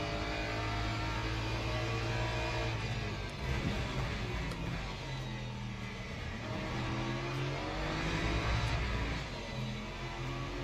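BMW race car drifting in the Le Mans Ultimate racing game: a sustained engine drone with rising and falling pitch under a steady mechanical hum, loud and continuous throughout.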